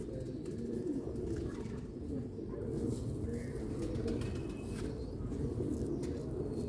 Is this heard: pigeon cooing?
yes